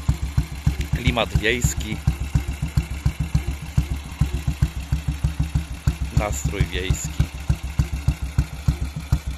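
A motorcycle engine idles with a steady, thumping low putter, while someone talks briefly over it.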